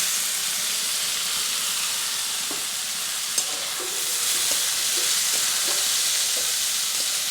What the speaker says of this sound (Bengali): তো টমেটোটা কিছুক্ষণ ভেজে নিচ্ছি।